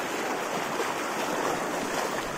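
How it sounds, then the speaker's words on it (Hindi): A fast-flowing mountain river in Uttarakhand roars loud and close, a dense, unbroken rush of churning water filling the whole span. "पानी का यार भाव इतना तेज है ना, देख लो कितना तेज है"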